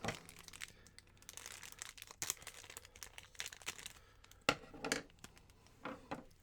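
Action figure accessory pack packaging being cut open, with scattered crinkling plastic and sharp snips coming in bursts at close range, alone without talk.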